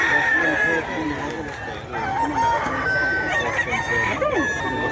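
At a busy pet market in Bocaue, gamefowl roosters, including a Boston sweater rooster, crow and cluck loudly and repeatedly, close by, with overlapping calls amid crowd noise and people talking in the background.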